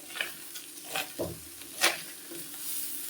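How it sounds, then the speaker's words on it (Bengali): A radish and fish curry with coriander leaves is stirred gently in a pan. A spoon scrapes and pushes the food in a few soft strokes, with a quiet sizzle underneath, close and fairly faint. "দেখো আমি একদম হালকা হাতে নেড়ে নেড়ে দিচ্ছি"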